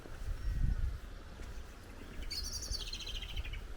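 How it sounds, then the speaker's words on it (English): A blackbird sings a short, bright phrase of chirps in a green valley in North Wales, fairly faint and distant over low outdoor rumble and footsteps. "Oh, blackbird."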